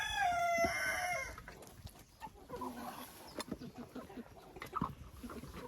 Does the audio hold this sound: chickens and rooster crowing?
yes